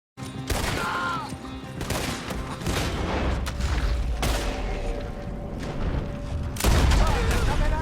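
A shootout in the video game Red Dead Redemption 2, with dense rapid gunfire and booming shots rolling on continuously and loudly while characters shout over the fighting.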